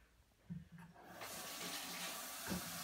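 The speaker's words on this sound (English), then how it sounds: "Sorry, I had to wash my hand." Hands washed under a running kitchen tap: water gushes on steadily after a couple of faint knocks, a close hissing splash that carries on to the end.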